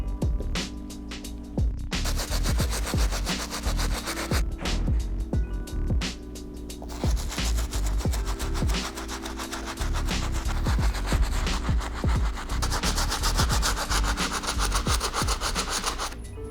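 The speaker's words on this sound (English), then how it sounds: "I am gonna move on to the midsoles and the outsoles using our stiff bristle brush" A stiff bristle brush scrubs the midsoles and outsoles of white Converse Chuck Taylor high-top sneakers in fast, rhythmic rasping strokes, with brief pauses between bursts of close, loud scrubbing.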